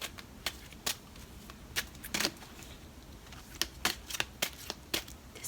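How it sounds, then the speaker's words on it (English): A deck of tarot cards is shuffled close up in a quiet room, a series of sharp papery riffles and slaps arriving in irregular bursts with pauses between, nobody talking. "Okay, I am going to shuffle these now."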